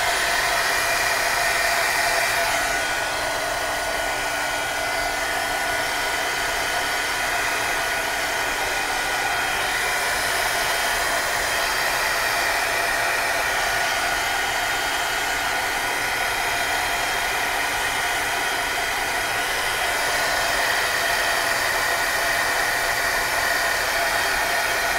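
A hair dryer blows steadily on wet artwork for the whole stretch, a loud, close, continuous whooshing hum with no talk over it.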